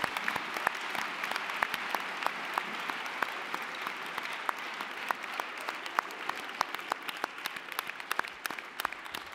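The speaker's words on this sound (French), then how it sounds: "Et sous les applaudissements des étudiants et des diplômés" Sustained applause from students and graduates at a school ceremony, a dense wash of many hands clapping steadily for the full length with scattered sharper claps standing out, no voices over it.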